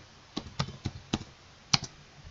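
A search query is typed on a computer keyboard: about half a dozen crisp, close keystrokes in an uneven rhythm, separated by brief pauses, over a quiet background.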